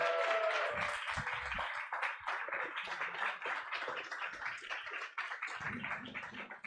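An audience applauds a guest rapper at a live French YouTube evening event. The clapping is dense and steady, moderately loud, and runs throughout with no one speaking over it.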